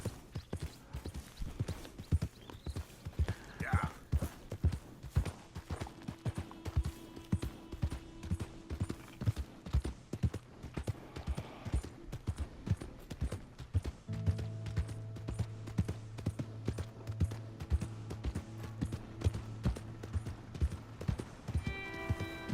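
Horse hooves clip-clop steadily at a walking pace in the game Red Dead Redemption 2, fairly quiet and continuous, with occasional tack rattles and a low ambient hum and no talking.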